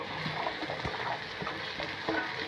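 Okra is stirred in a pan of spice masala, with a gentle sizzle underneath and a few soft scraping stirs close by.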